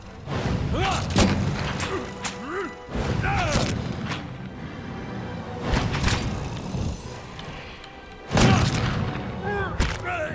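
A troll exploding in the video game Pillars of Eternity, heard as heavy booming thuds and crashing impacts amid dense combat effects, with a few sharp bursts across the fight and voices talking in between.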